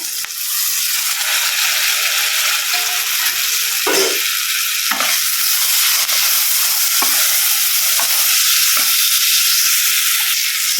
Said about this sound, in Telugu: ఆనియన్స్, టమాటో వేస్తున్నాను ఇందులో